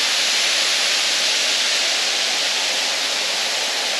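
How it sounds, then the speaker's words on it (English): A Kimberley waterfall roars in a dense, unbroken rush of white noise, loud and close, with no voices over it. "And another bit of a waterfall coming down the wall over there."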